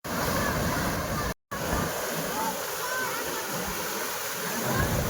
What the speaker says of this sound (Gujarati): વ્યુઅર્સ આપણે જોઈ શકીએ છીએ પાણીનો અવાજ કેટલો આવી રહ્યો છે, ભયંકર અવાજ આવી રહ્યો છે